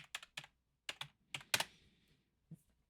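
Keys on a computer keyboard tapped close by in short quick clusters, about eight distinct clicks over a few seconds with brief pauses between groups, quiet and alone.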